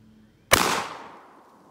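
A single loud Rock Island Armory VR60 shotgun blast cracks after a quiet moment outdoors, its sharp report decaying into a long fading echo.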